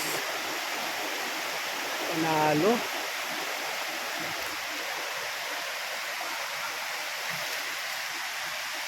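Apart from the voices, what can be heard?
waterfall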